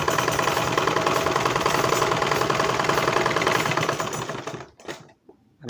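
A sewing machine stitches a blouse seam, a loud, fast, steady mechanical chatter running continuously for over four seconds before stopping abruptly, followed by a few faint handling sounds.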